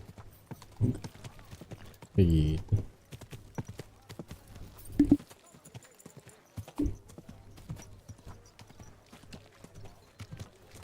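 Sparse hoofbeats clop along with a short horse snort or whinny in the video game Kingdom Come: Deliverance II, while a person speaks briefly over the sounds.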